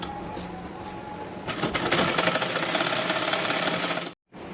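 A sewing machine stitches around the neckline of a simple blouse. A quiet room gives way after a moment to a steady mechanical whirring run, which cuts off abruptly just before the end.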